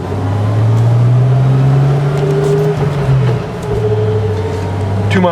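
A Jeep with 63,469 miles drives along a road, its engine humming in a loud, steady drone close by that dips briefly and then resumes without sputtering.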